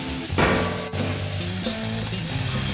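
Ketchup poured into a hot pan for vegan sloppy joes, producing steady loud sizzling and frying with a brief burst of stirring, close up and without talk.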